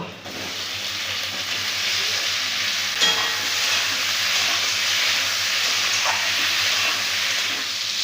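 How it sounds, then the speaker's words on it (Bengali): Steady broadband sizzling of chopped tomatoes frying in a pan with onion and ginger paste, continuous and fairly loud, with a brief clink near the middle. "টমেটোগুলো একটু ভাজা ভাজা হয়ে গেছে"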